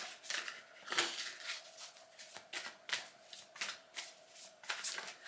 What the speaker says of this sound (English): Can I just shuffle some cards